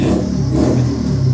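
A Yamaha Fiz-R two-stroke motorcycle fitted with an FJP Racing exhaust revs hard, a loud, close, continuous raspy engine roar with steady rattling texture and no talk.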